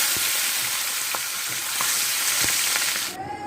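Fish rubbed with salt and turmeric fries in hot oil with a steady, close sizzle and scattered pops and spatters, without speech, until the sizzle drops away at the very end.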